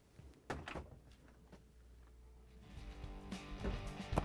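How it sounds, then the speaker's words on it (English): Whirlpool refrigerator doors are shut after a gasket replacement, giving a few soft thumps and knocks followed by a louder rattling close near the end, heard up close in a quiet room. "And now I'm going to close the doors."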